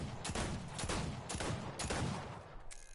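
A Six Shooter revolver firing in a zombie-mode video game, a run of muffled, booming shots in quick succession over a dense, rumbling backdrop of game noise, with no voices.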